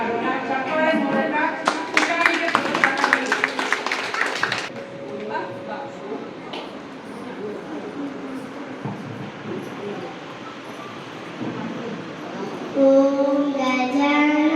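An audience at a community gathering claps to open a children's program, with a few seconds of brisk applause that fades into room murmur before a singing voice begins.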